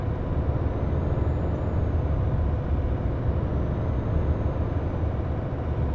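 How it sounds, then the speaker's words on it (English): A Volvo FH truck engine in Euro Truck Simulator 2 running loud and steady, a deep, even drone with no talk over it. "Such a powerful truck, really"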